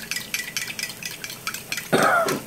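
Whole milk and melted butter are whisked together in a bowl, giving quick rhythmic scraping and tapping strokes, followed by a louder, denser clatter near the end.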